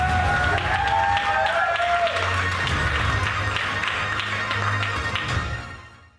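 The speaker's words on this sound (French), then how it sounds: "applaudir notre premier vainqueur" An audience applauds the first winner at a video game awards event. The clapping is steady and dense under a music tone, then fades out at the end.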